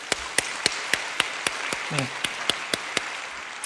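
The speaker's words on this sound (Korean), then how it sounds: "박수 한번 할까요?" A church congregation claps together in a steady, even rhythm during a sermon, with crisp, evenly spaced claps at a moderate distance; a voice gives a short spoken reply partway through.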